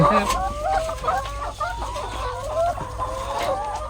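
Grown laying hens, vaccinated and raised in a simple Thai henhouse, keep up a busy run of clucks and cackles close by, continuous and fairly loud throughout.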